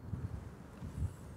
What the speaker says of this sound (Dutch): Oh, even wachten op die wind.